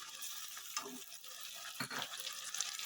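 Tomato paste hits a hot pan of chicken aloo curry base, giving a steady close sizzle and frying hiss, with stirring scrapes breaking through at intervals.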